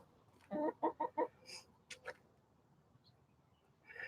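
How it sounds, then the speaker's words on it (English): Chickens feeding on berries give a burst of three or four quick clucks, then a few sharper squawks and a faint later call, close by over a quiet outdoor background. "I'm going to let that run for a little bit so you can watch the chickens eating"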